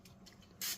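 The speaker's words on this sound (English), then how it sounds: "I'm gonna try some butter flavored spray just real quick on top" A short burst of butter-flavored cooking spray lands on cheese sticks before they go into a pizza oven, a single close hiss near the end following quiet background noise.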